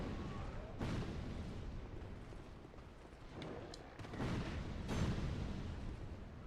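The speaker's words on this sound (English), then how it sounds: "People throwing flaming bombs at you." Flaming bombs bursting in Dark Souls 2, a series of dull booming blasts at about one, four and five seconds over a steady rumbling din, with a faint voice in the mix.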